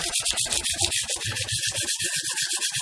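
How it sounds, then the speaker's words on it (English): Sandpaper lightly worked over a surface by hand makes rapid, even back-and-forth rasping strokes, close and continuous throughout. "So all I'm going to do is just lightly hit them with the sandpaper."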